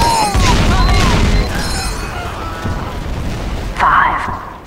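Bombs exploding in a video game, a heavy loud boom up front rolling off into rumble, with game noises and another blast late in the clip, and speech mixed in.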